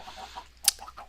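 Short cluck from a chicken on a Minecraft chicken farm: a single sharp, bright burst over a quiet background with faint soft game noises around it.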